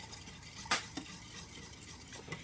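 A utensil stirs a pot of homemade edible finger paint on a stovetop over medium-high heat, giving soft, continuous scraping with one sharp clink against the pot, quiet and close.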